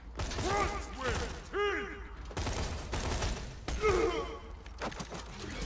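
Gunfire in the video game Borderlands 2, bursts of rapid shots in several clusters with mechanical clatter, loud and close, under a speaking voice.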